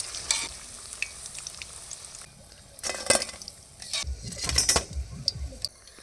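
Cauliflower pakoras frying in hot oil make a steady close sizzle, with stirring and occasional clinks of a utensil against the pan.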